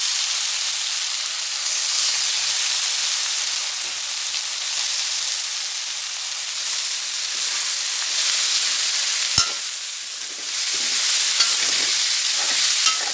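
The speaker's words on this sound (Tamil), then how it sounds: "இது பாதி அனல்லே நல்லா வதங்கட்டும்." Mixed vegetables and potato sautéing over medium heat in a pan for vegetable semiya kichadi, a steady broadband sizzle and stir throughout with a few brief scraping clinks, no talk.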